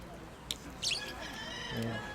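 Pet parrots, including budgerigars, rosellas, lovebirds and cockatiels, give a couple of brief, sharp chirps and a short squawk under a person talking nearby.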